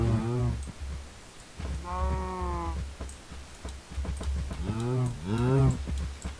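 Cows in a video game moo repeatedly, several long, low, drawn-out calls overlapping in close succession, loud and near, with faint clicks between them.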